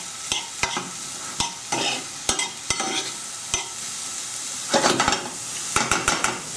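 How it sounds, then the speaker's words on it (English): Mushrooms and onion fry in a pan while a utensil stirs them, sharp repeated knocks and scrapes against the pan over a continuous close sizzle, no speech. "and also the mushrooms. Just give them a stir."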